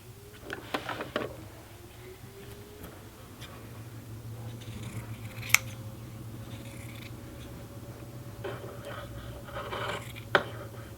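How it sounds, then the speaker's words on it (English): Scissors snip excess yarn fringe off a handwoven tote bag, a few soft, quiet cuts over a steady low background hum, with a sharper snip near the middle and another toward the end. "then you can cut off the excess fringe"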